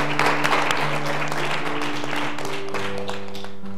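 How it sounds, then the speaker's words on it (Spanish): A church congregation applauds in praise during a Spanish-language worship service, a loud dense patter of clapping over sustained organ or keyboard chords, with music continuing throughout. "Usted ahí en su lugar, dele un aplauso al Señor."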